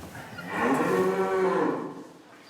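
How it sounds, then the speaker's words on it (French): A Limousin cow moos in a barn on a multi-generation cattle farm, one long, loud, drawn-out low call rising and fading over a steady room background. "Ces vaches sont des limousines."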